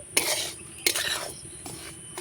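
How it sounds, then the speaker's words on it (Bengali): Semolina dry-roasted over low heat in a pan, stirred with a spoon: three sharp scraping strokes against the metal, spaced apart, with a faint hiss between them and no voices. "দু মিনিটের মতো সুজিটা নাড়াচাড়া করে ভেজে নিলেই হবে"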